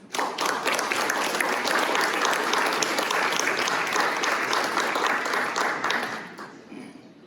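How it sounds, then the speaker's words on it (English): A crowded conference room audience at a tech week panel breaks into loud, sustained applause welcoming panelists to the stage, dense clapping that fades out near the end. "let's give them a huge welcoming round of applause"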